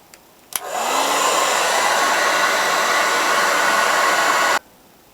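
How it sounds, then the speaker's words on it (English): A hair dryer switches on with a click and blows a steady, loud whoosh for about four seconds to heat a waxed bike chain hanging from a hook, then cuts off abruptly. "I'm just going to use the hairdryer just to get the melted wax dripping off the chain."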